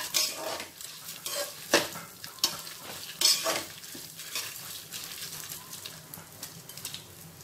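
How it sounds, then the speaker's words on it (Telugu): Toor dal frying in a pan over a medium flame, a steady soft sizzle broken by several sharper scrapes and clinks of a stirring spoon, close and without talk. "ఈ కందిపప్పును కూడా దోరగా మనము మీడియం ఫ్లేమ్ లో ఫ్రై చేసుకోవాలి"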